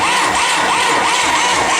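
A Bobcat engine with a dead battery churns and turns over steadily, a loud continuous mechanical drone without speech.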